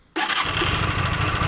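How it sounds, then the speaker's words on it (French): Starter cranks a Hyosung 125 GTR motorcycle engine, which catches and runs steadily at a warm idle, loud and close, with no talking over it. "Ensuite je remets un petit coup de démarreur pour voir."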